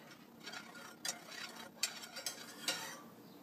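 A raspberry pretzel jello mixture is stirred in a bowl, with soft, continuous scraping and swishing and a few sharper clicks of the utensil against the side, close and fairly quiet, with no talking.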